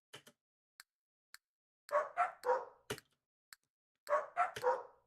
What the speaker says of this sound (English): They'll bark 3 times in the same rhythm, then you come in with the 4th beat.